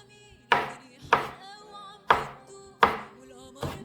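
A knife chops cucumber and tomato for a chicken salad on a cutting board, giving five crisp thuds at uneven intervals. Each cut is close and sharp, with quiet ringing between strokes and no talk.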